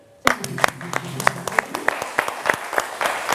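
An audience bursts into applause on a French television show after an announcement about a couple's wedding. The clapping starts abruptly and stays dense and steady to the end.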